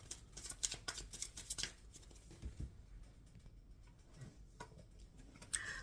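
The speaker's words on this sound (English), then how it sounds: "Shuffling for Cancer for July." Tarot cards being shuffled by hand, quiet rapid riffling and soft slapping flutters in short irregular bursts, close and low in level with no speech.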